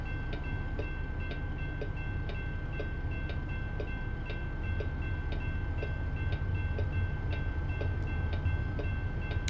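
A train rolls past in American Truck Simulator, a continuous loud rumble with rhythmic clickety-clack of wheels over rail joints and a sustained tone running throughout.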